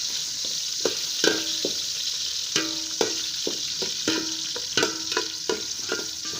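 Chopped ginger and garlic sauté in a hot oiled pan for a chicken tinola, a steady close sizzle broken by repeated sharp scrapes and taps of a spatula stirring against the metal.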